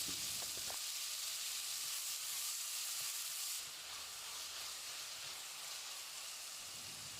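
Onions and a sprig of curry leaves frying in oil in a pressure cooker give a steady, broad sizzle, close and constant throughout, with a faint stir early on.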